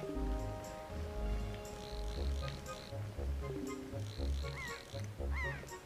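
Mail bird character in The Legend of Zelda: The Wind Waker squawking in short quacking bursts over rhythmic game music, with some chirpy calls near the end.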